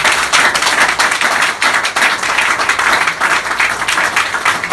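A church congregation claps loudly and steadily for several seconds, a dense, continuous roll of many hands with a rhythmic, uneven pulse.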